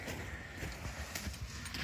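An old working horse skidding logs, its hooves thudding in a steady irregular clip-clop of footsteps close by over constant outdoor rumble, with no one talking.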